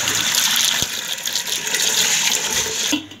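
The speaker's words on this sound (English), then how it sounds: "Then I will put water and wash." Water gushes steadily from a tap onto beans in a container for washing, a loud, continuous rushing pour up close that cuts off near the end.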